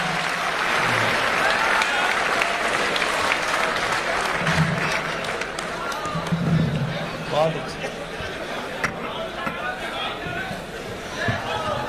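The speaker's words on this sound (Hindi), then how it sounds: "आप जोरदार तालियों के साथ आप उनका स्वागत करें" An audience at a Hindi poetry mushaira applauds to welcome the poet Tej Narayan Bechain, a fairly steady wash of clapping mixed with crowd chatter and a few chuckles.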